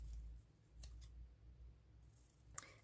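Scissors snip through paper labels in a few quick, close cuts, two crisp snips close together followed by a sharper one near the end, with no talking.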